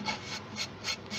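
A wooden bowl spinning on a lathe is sanded, giving a soft, steady rubbing hiss that swells and fades in a quick repeating rhythm, close by and with no talking.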